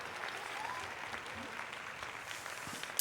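Faint crowd applause with scattered cheers, a steady distant patter of clapping throughout with voices mixed in.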